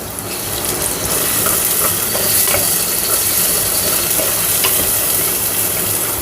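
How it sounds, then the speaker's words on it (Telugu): Sliced onions fry in a pan with a teaspoon of ginger garlic paste, a steady close sizzle with occasional scraping and stirring from a spoon, heard alone without talk. "ఉల్లిపాయ కొంచెం వేడెక్కుతున్నప్పుడు, అంటే వేగుతున్నప్పుడు జస్ట్ ఒక చిన్న టీ స్పూన్ అల్లం వెల్లుల్లి పేస్ట్,"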